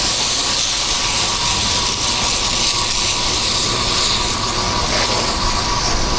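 A pressure washer blasts water against a commercial building to strip off algae in Orlando, a loud steady hiss and roar that continues unbroken throughout.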